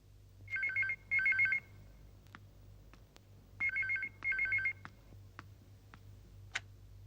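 A telephone rings in two pairs of warbling electronic trills with a pause between them, fairly loud indoors, with faint ticks in the quiet background.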